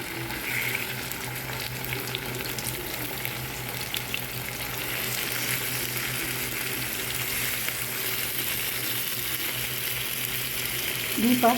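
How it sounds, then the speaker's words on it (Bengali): Salted and spiced rohu fish pieces fry in a frying pan, a loud continuous sizzle and crackle heard up close, with a brief clatter near the end. "মাছগুলো ভেজে নিব দুই পাশ"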